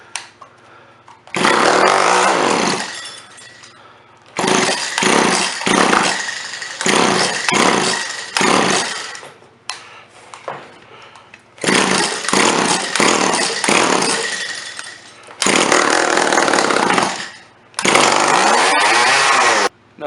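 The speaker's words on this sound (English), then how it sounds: "I am going to show you that this engine does still run" A Stihl FS 80 string trimmer's two-stroke engine, with a blown top end and worn piston rings, runs close and loud in repeated bursts of revving, cutting out briefly to near silence between them.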